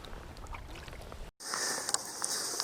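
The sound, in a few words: kayak paddling on a lake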